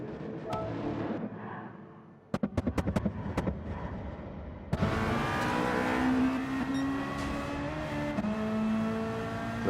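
Race cars in the Gran Turismo 7 video game roar and rev, with a burst of sharp rapid bangs before engines surge loudly and sustain at high pitch, close and continuous.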